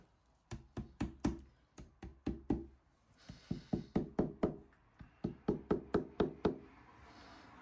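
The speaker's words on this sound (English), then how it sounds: "And I just tap them down." Glued oak plugs tapped down into wood holes, sharp close knocks in quick bursts of three to six, about twenty hits in all, with brief pauses between groups and no talking.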